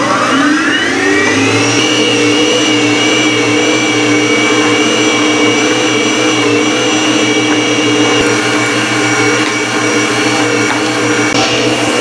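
Electric meat grinder grinding small-cut sirloin beef for burgers, a loud steady motor whine that spins up at the start and then holds a continuous droning hum throughout.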